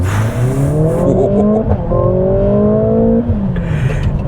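A 2022 Mercedes-AMG GLA45 hot hatch making a launch start in Sport Plus mode, its engine loud and close as the revs climb steadily through the gears, with brief pauses at each shift.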